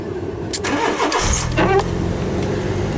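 A 2004 Fiat Punto facelift with its engine warning light on is started, a brief starter crank giving way to a steady, close-up idle that runs on to the end.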